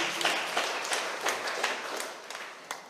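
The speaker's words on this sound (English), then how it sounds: "Give the Lord a clap offering of praise" Congregation at a thanksgiving service clapping as an offering of praise, a dense burst of applause with sharper individual claps standing out, fading slightly over a few seconds.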